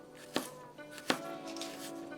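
A knife cuts stacked ginger into thin slices on a board, giving two crisp, close chops with quiet gaps between them.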